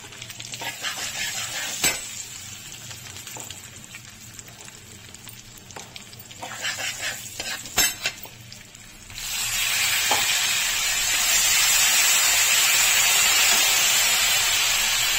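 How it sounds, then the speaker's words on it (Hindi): Masala for spicy okra is roasted in a pan with a splash of water, cumin powder and crushed red chilli. Scraping stirs and clinks come first, then a loud, steady hiss of sizzling takes over. "पानी डाल के इसको भून लेंगे, जिससे कि मसालों का कच्चापन निकल जाए।"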